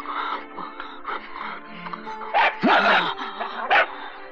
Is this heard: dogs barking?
yes